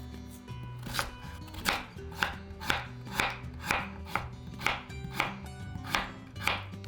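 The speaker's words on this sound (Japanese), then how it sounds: "大根も味噌汁の具にしたいのでいちょう切りにします。" A knife chops daikon radish into quarter-round slices on a cutting board, about a dozen crisp, evenly spaced thuds at a steady rhythm, close and clear with no talking.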